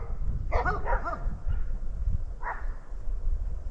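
Several dogs bark on a mountainside at a campsite, a burst of quick barks followed by a pause and one more bark, moderately close against outdoor background noise.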